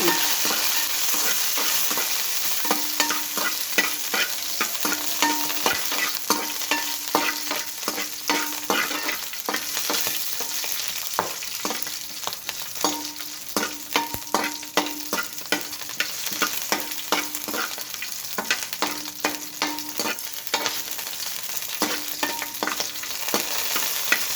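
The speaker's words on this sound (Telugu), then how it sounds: "ఇప్పుడు పచ్చిమిర్చి వేసుకుందాము ఇవి తుంపేసుకోండి లేకపోతే పేలుతాయి" Green chilies sizzle in hot oil in a pan alongside guava pieces for pickle: steady close frying crackle with intermittent stirring scrapes throughout, no talk.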